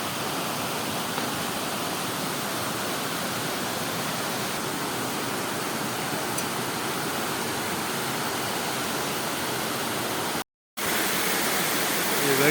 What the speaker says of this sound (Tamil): இந்த அருவியோட நம்ம ஒரிஜினல் சவுண்டு கேட்குறது.